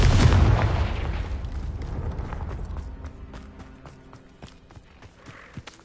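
A Confringo spell explosion in the Hogwarts Legacy video game lands as a loud boom at the start, then rumbles and fades over several seconds, with scattered small pops and clicks afterward.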